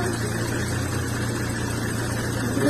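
A car engine running at a steady idle, a low, even hum with a smooth, V8-like character, close and constant throughout with no voices.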